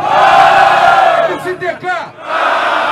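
A loud crowd at a rap battle roars and cheers, with voices shouting over the noise and a brief dip before the cheering swells again.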